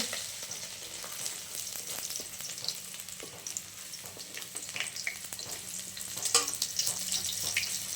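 Dried red chili, bay leaf, chopped ginger, green chili and a little chopped garlic sizzling in leftover oil from frying paneer, a steady close crackle with small bursts and faint stirring, no talking.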